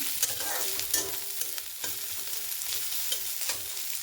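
Grated garlic and ginger frying in a pan with onion and capsicum give a steady, close crackling sizzle with small spits and pops throughout, no voices.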